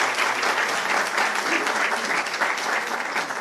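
Audience at a talk on transcommunication and psychophony clapping: steady, dense applause from a nearby crowd lasting throughout, fairly even in loudness.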